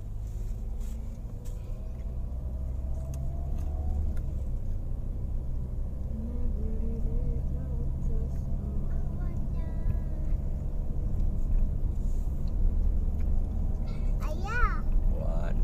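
A car drives along a road on a family trip through Aceh toward Takengon, a low steady rumble from inside the vehicle running throughout while children and adults talk over it.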